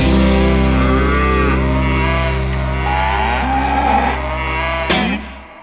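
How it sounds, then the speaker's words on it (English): A cow gives a long, loud moo close by, a sustained low call that rises and falls before cutting off near the end. "Who brought the cow into the studio?"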